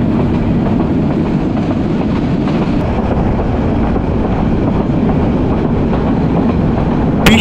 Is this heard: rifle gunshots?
no